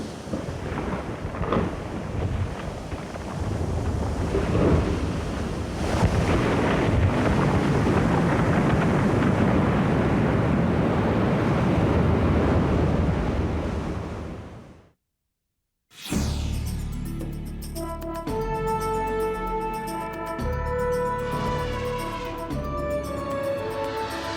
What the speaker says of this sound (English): the Alaskan coast still resounds with the breaking thunder of the ice